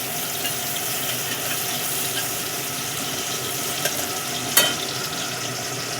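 Grated garlic frying in oil gives a steady, dense sizzle that continues throughout, with a sharp click or clatter near the end.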